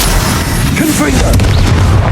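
A Confringo blasting spell from the Hogwarts Legacy video game lands with a loud, deep boom in dense, noisy combat, followed by a brief sharper burst.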